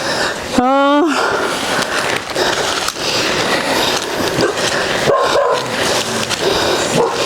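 A puppy gives one rising, whining yelp amid busy outdoor noise in the hills and people talking nearby, with occasional thumps.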